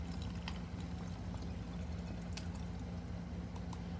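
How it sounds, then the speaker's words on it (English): Water poured steadily from a tap or jug into a reusable water bottle at home, a continuous low rushing fill with a few small splashes and drips, close and alone with no talking. "I'm going to fill up my water bottle with some water"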